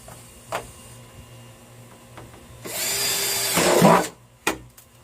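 A power drill bores through a plastic bucket container, a loud burst of about a second and a half of whirring and grinding after a few faint clicks, followed by a sharp knock.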